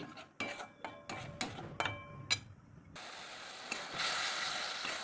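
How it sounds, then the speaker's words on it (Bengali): A metal spoon clinks and scrapes against a pan in a quick run of sharp knocks while spice paste is stirred with sour yogurt for an egg and chana dal curry. Then a steadier, hissing frying noise takes over. "এরপর আমি সামান্য টক দই দিয়ে আবারও ভালো করে নাড়াচাড়া করে নেব।"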